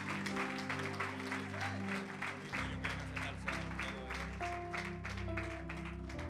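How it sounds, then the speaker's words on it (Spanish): Church congregation claps together during a Spanish-language sermon, a brisk rhythmic clapping over sustained music or organ tones, moderately quiet and continuing throughout with no speech on top. "Alguien dele un aplauso a Dios por Él."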